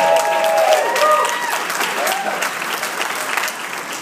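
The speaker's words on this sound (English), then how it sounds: "She deserves some applause." Wedding guests break into applause for the bride's friend who introduced the couple, a loud, dense burst of clapping that tapers slightly while a few voices and cheers ring out over it.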